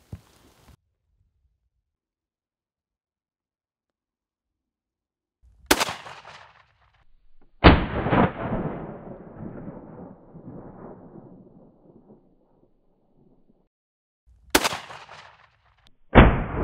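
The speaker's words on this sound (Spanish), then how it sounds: "Voy a efectuar un disparo a 30 metros a una botella llena de agua" Gunshots from a rifle fitted with an Aimpoint Micro S-1 red dot sight, fired at a water-filled bottle 30 metres away. Several sharp, loud cracks stand in near silence. One is followed by a long rolling echo.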